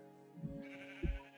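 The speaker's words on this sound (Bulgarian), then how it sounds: "И тук малко овце." Sheep in the Minecraft video game bleating twice, two short close calls about half a second apart over a faint background tone, with no talking.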